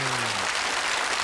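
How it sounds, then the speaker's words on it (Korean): A studio audience on a Korean TV show claps for the Eagle Wings youth aviation group in a short, dense burst of steady applause. "푸른 하늘에 대한 꿈을 갖고 있는 이글윙들에게 박수 한번 보내주십시오"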